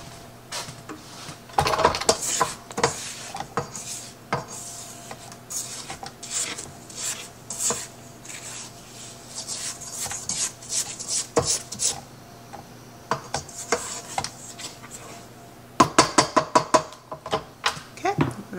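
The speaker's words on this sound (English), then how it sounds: "I'm going to give this a scrape down." A spatula scraping down a bowl of cookie batter, a series of rubbing, rasping strokes with a burst of quick scrapes near the end, while people talk in the background.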